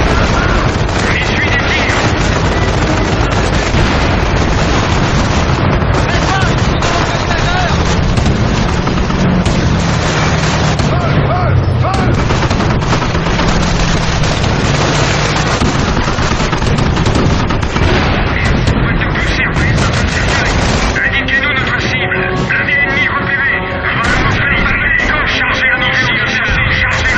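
Gunfire and explosions in the Company of Heroes video game: a constant, loud battle din of booms and shots mixed with music, with shouted voices throughout.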